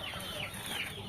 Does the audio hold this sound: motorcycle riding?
no